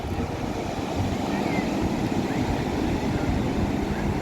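Steady wind buffeting the microphone over a continuous wash of waves at Malvan beach near Sindhudurg fort, loud and unbroken throughout.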